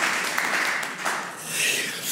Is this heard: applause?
yes